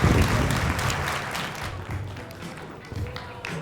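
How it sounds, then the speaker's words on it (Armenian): An audience applauds at the Armenia's Got Talent semi-final, a burst of dense clapping loud at first and gradually thinning out. "Ծափահարությունները։"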